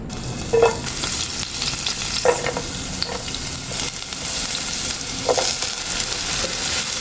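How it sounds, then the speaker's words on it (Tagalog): Garlic, onion and tomato sautéing in hot oil for misua with patola, a bright steady sizzle close up, broken by several clattering stir strokes of a utensil against the pan, no talking. "At kapag mainit na yung mantika, ilagay na po natin yung bawang, sibuyas at kamatis."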